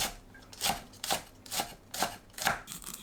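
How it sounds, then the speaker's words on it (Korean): Knife chopping green onions on a cutting board, about six evenly spaced crisp thuds in a steady rhythm, close and clear with no talk. "파는 길게 칼집 넣고 작게 썰어줍니다"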